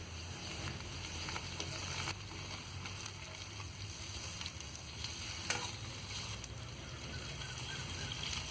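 Chopped tomato and onion are sautéed in oil in a pan for a bitter gourd gravy, a faint continuous sizzle with occasional scraping stirs and clicks, close and without speech.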